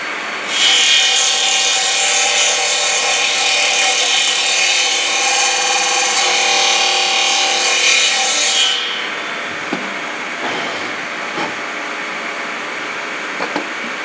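Saw trimming a long wooden board at a woodturners' demonstration, a loud dense buzzing cut that runs steadily for about eight seconds, then stops, leaving quieter room noise with a few light knocks.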